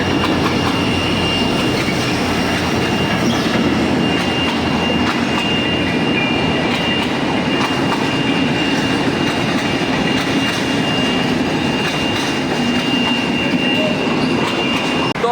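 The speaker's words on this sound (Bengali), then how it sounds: "অবশেষে আমরা এখন দর্শন পেলাম ট্রেনের। এই যে সামনে ট্রেন" A train rolls past close in front at a street crossing, a loud continuous rumble and clatter of wagons with some wheel squeal, faint voices mixed underneath.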